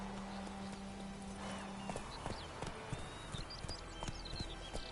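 Roach, Geralt's horse in The Witcher 3, gallops with rapid rhythmic hoofbeats clopping steadily over game ambience, loud and close throughout.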